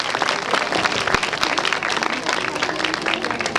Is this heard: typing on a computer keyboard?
no